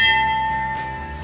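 A struck bell rings out once with a bright metallic tone and steady harmonics, decaying slowly over about a second, close and clear with no voices.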